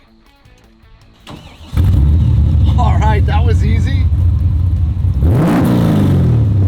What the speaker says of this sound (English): I'm wondering what over 500 horsepower sounds like